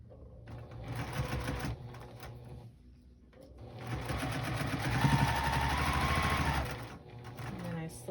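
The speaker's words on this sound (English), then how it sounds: "So now we sew together this row." Sewing machine stitching a row of a wonky star quilt block, steady whirring motor runs in two bursts with a brief pause between, close and fairly loud, slowing slightly toward the end.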